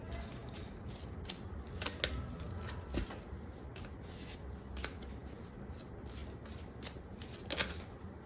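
Tarot cards shuffled by hand, soft repeated riffling and flicks with sharper snaps as cards are pulled from the deck, quiet and close with no talking.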